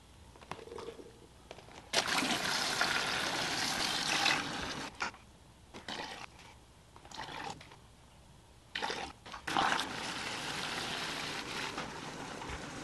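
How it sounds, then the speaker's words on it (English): Water gushing from a car wash soap proportioner into a 3-gallon bucket, a loud steady rush that starts and stops several times in bursts with quieter gaps between. "So we use our proportioner."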